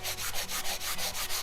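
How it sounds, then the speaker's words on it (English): A foam sanding block rubs back and forth over dried white wall paint in steady, even strokes of coarse scratchy friction, close and fairly loud, with about eight regular passes and no talking. "I'm just gonna sand that up"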